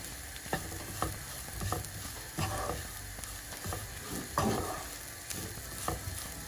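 A spoon stirs turmeric and salt through a sizzling spicy coconut fish curry masala in a hot pan, rhythmic scraping strokes over steady close frying hiss with no talking.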